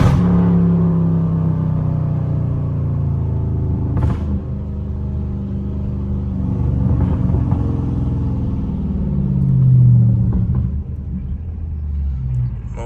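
A Dodge Charger Scat Pack's engine rumbles and revs close by, its deep exhaust note swelling and easing in repeated surges as the car drives through a neighborhood among trees.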